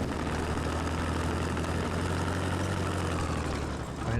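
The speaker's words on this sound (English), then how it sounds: "He hears the engine." A heavy vehicle engine rumbles in the video game Squad, a steady low drone held for several seconds without change, with no voices over it.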